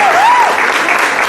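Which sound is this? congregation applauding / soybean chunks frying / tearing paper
congregation applauding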